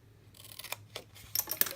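A paper gift box template is cut with scissors in a quick series of crisp snips and rustles that grow denser toward the end, close up and with no talk.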